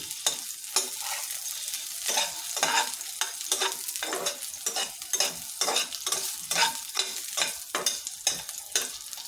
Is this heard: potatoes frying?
yes